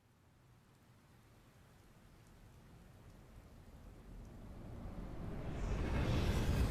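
Rain pours steadily on a city street in Stellar Blade, a dense wash of drops that grows steadily louder and heavier toward the end, with no voices.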